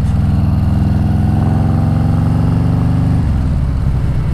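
A 2020 Harley-Davidson Road King fitted with a Screaming Eagle 131ci Stage 4 engine rumbles loud and close, its deep lumpy V-twin idle holding steady before a brief throttle change near the end.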